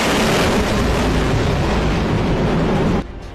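Chinese warships launching missiles, a sustained loud roaring rush of rocket exhaust lasting about three seconds before cutting off abruptly to quieter rumble.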